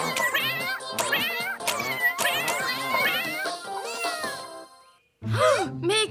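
Cartoon cat meows repeatedly in bright, wavering cries over a busy mix with background voices, pausing briefly near the end before a louder final yowl.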